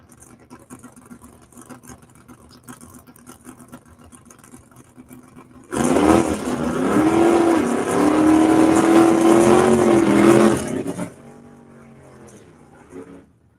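A drag racing car launches down the strip at a Mid-West Drag Racing Series qualifying event, its engine roaring up loud and close for several seconds before cutting off abruptly and fading.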